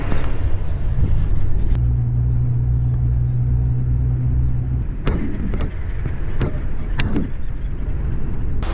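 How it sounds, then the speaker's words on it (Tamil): Bus running on a road and turning left at a junction: a loud, steady engine rumble sits under continuous road noise, with a held engine tone in the middle and a few sharp clunks and rattles near the end. "இப்போது பஸ்ஸு லெஃப்ட்டு கட் ஆகிற இந்த இடம் தாங்க ஜெகப்பஞ்சத்திரம் கூட் ரோடு"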